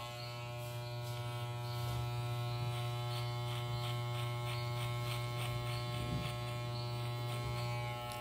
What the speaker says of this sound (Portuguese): ó, subir a maquininha. Zero alto.